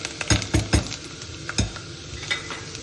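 Whole spices dropped into a pan of frying cashews in a home kitchen, with steady sizzling and several sharp spoon-on-pan clinks and stirring scrapes close by.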